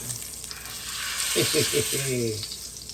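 A pork chop sears in a hot pan for a pork chop cacciatore, giving a steady close sizzle and crackle throughout, while a voice speaks briefly over it.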